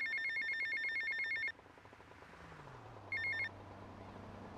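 Telephone ringing in GTA Vice City after leaving the hotel: two loud, bright electronic bursts of bell-like trilling, the first about a second and a half long, a shorter second one after a pause, over a low game hum.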